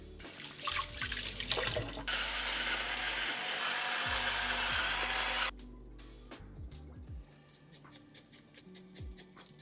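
Tomatoes and lemons are rinsed under a running kitchen tap, a steady gush of water for a few seconds that cuts off abruptly, followed by quiet clicks and handling sounds.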